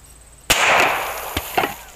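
A .45 ACP Colt automatic pistol fired at a steel glasses case: one loud, sharp report with a rattling decay, followed by a couple of fainter knocks.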